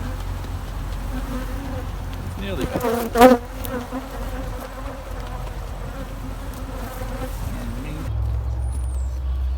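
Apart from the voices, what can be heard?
buzzing honeybees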